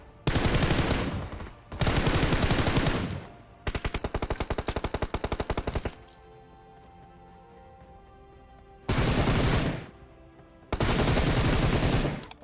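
Automatic gunfire in the mobile battle-royale game PUBG Mobile: several loud, dense bursts of rapid shots, separated by short pauses and one longer quiet stretch with faint game background sound.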